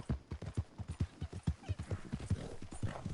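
A horse walks with steady clip-clop hoofbeats in the video game Red Dead Redemption 2, an even rhythmic pattern at moderate distance with no voices over it.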